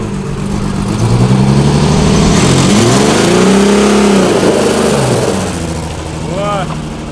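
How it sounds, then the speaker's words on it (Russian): Engine of a 1972 Mercedes W116, left in a garage for 20 years, revving hard in neutral, a loud sustained roar that rises and falls in pitch through a long rev, with voices talking over it. "А если на N максимальные обороты,"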